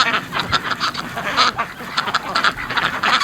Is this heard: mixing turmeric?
no